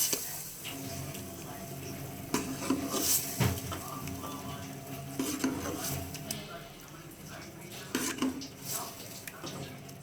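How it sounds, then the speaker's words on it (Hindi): Turnip and meat curry being served from a pot into a dish, with spoon scrapes and clinks of metal against cookware in irregular bursts, close and fairly quiet, with a faint voice in the background. "अब मैं इसको डिश आउट करती हूँ।"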